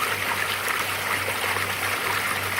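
Water flowing from a cast iron outdoor sump pump moving 160 gallons per minute after heavy rain, a steady close rushing stream with a low constant hum underneath.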